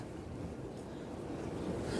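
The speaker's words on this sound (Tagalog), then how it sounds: "Ito, ang hangin" Steady wind rushes and roars against the microphone, a constant low buffeting that builds slightly toward the end, with no voices.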